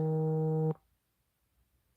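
A steady electronic phone tone for an incoming call, sounding continuously and then cutting off abruptly, followed by near silence and a brief click.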